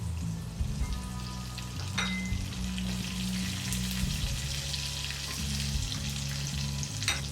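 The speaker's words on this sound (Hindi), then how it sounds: "तेल गरम हो जाने पे मैंने आधी चम्मच इसमें जीरा डाला है, फिर करी पत्ता डाला है" Cumin seeds and curry leaves sizzle steadily in hot oil in a pan, a dense crackling fry that runs continuously and close, with occasional stirring clinks and no voices.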